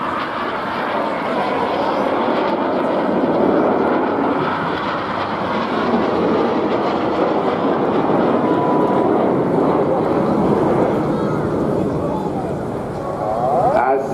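Aerobatic display jets at the Torbay Airshow roar continuously overhead, a loud, broad rushing engine noise that swells and holds, with a commentator talking over it.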